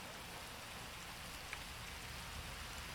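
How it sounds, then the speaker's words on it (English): Steady rain in the GTA 5 video game, a continuous soft hiss of falling rain with no breaks, faint and alone. "Why is it raining? Come on, game."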